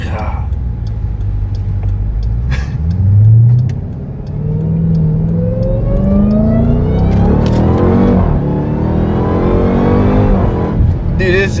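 Dodge Durango Hellcat launching and accelerating hard, its engine roaring loud and close as it climbs through the gears with clear rising sweeps and a brief shift break, heard from inside the cabin.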